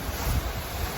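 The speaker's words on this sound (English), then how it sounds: "the waves are reasonably big now" Big ocean waves and gusting wind during an HH52 catamaran passage, a steady loud broadband wash with rumbling low surf and constant wind noise on the microphone, no voices.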